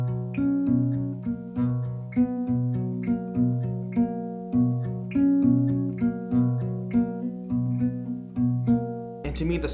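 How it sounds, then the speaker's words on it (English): A nylon-string guitar is finger-picked in a gentle, repeating chord pattern with soft plucked attacks and ringing notes, ending with a brief burst of noise. "so I actually switched over to using my nylon string guitar"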